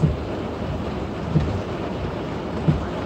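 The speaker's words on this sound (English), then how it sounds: "There's so much rain on today in December." Heavy rain pours down in a dense, steady hiss, with a few soft thuds standing out from the downpour.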